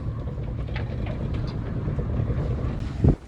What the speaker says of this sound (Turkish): Bir yağmur rüzgarı başladı.